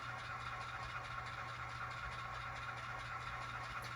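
A model diesel locomotive's sound system, a Proto2000 GP18 with DCC sound, idles steadily with a low, even rumble and faint mechanical clatter, quiet and unbroken.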